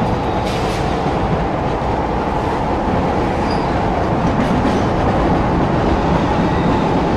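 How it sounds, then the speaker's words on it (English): A train rolls through a level of the video game Killzone 2 as a loud, steady rumbling roar with faint rail clatter, continuous and close throughout, with no speech. "Man, I can barely move this train"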